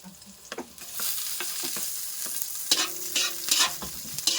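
Octopus stir-frying with garlic in a pan for coconut-milk adobo: spoon scrapes and stirring clatter come in irregular bursts over a steady close sizzle, with no talking.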